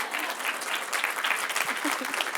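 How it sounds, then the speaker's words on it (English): A small audience breaks into applause for a speaker, a dense, continuous round of clapping that stays fairly loud and even, with a few voices faintly underneath. "Okay, well, I think we should give you a clap"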